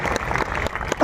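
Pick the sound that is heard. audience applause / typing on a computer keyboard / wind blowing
audience applause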